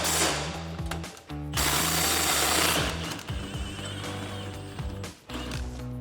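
Impact wrench loosening a rear shock bolt on a Ford F-150 with a 16mm socket, heard as close, loud bursts of mechanical hammering with short pauses between them.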